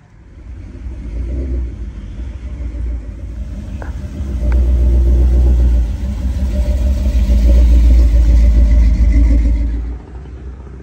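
Several 1959 Cadillacs at an old-style hot rod weekend in Sweden, a deep low engine rumble that swells louder midway and stays heavy before easing off, close by and without speech.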